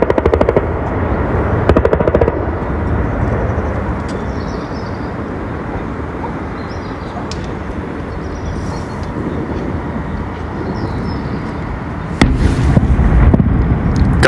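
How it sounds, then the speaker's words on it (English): Dense rumbling din of distant explosions and rapid gunfire during a night bombardment, continuous and loud, with sharper cracks and bangs breaking through near the end. "Explosions and fighting have been going on throughout the night."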